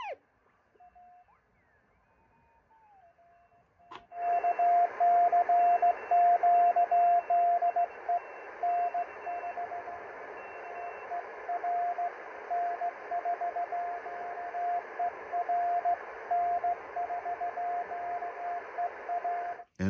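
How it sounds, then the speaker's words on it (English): CW Morse code on an amateur radio band received through a BITX40 module with a Galaxy V VFO, a steady tone keyed in dots and dashes over a constant hiss of band noise, loud and close. "Nice loud CW signals."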